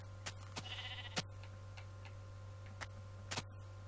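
A sheep in Minecraft on Xbox 360 bleats faintly once or twice amid sharp, sparse clicking and ticking in a quiet scene.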